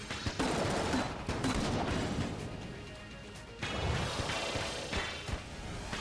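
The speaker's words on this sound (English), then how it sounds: "shoot 3 times and not reload with that M16" M16 rifle fire in Enter the Gungeon: bursts of sharp, loud gunshots mixed with crashing impacts and game effects, dense and chaotic at close range.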